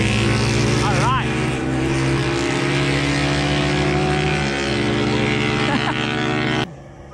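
Two Yamaha scooters, a stock M3 and a loaded NMAX, race a one-kilometer run, their engines revving loudly and climbing in pitch close by before dropping off sharply near the end.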